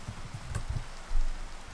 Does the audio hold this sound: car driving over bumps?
no